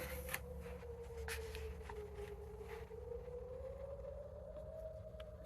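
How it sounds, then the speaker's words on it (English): A faint, distant tornado siren wails in one long slow tone that dips and rises, with soft clicking and shuffling noises close by. "Sounds almost like the tornado siren."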